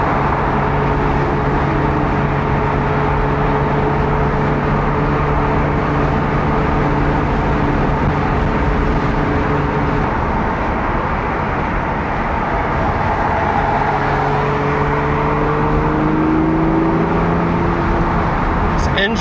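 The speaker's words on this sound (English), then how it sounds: "Engine runs so smooth." A Ferrari 400i cruising down a freeway with the windows down, its engine a smooth, steady low drone mixed with road and wind noise throughout, with someone talking over it.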